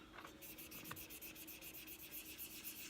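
A Glock trigger guard is sanded by hand with 1000 grit sandpaper, a quiet, steady back-and-forth rubbing in quick even strokes, close by and with no talk.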